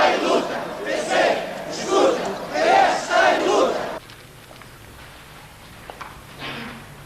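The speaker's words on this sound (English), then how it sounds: "The crowd chants in response" A large crowd at a 1974 Portuguese political rally chants slogans in loud, rhythmic surges for several seconds, then drops to a faint murmur.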